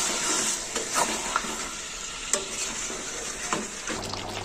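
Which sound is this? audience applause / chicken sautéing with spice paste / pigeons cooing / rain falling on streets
chicken sautéing with spice paste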